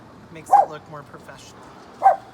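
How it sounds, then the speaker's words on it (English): A pet dog named Arwen barks twice indoors, one sharp bark early and another near the end, each cutting in over a person's ongoing speech while cut flowers are being arranged. "Sorry, that's my dog."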